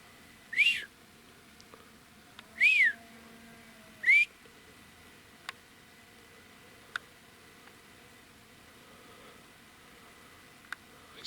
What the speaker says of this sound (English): Because I was whistling.